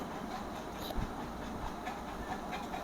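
A train in a horror-themed video game, a steady rumbling roll with faint rhythmic clatter running continuously at moderate level, no talking.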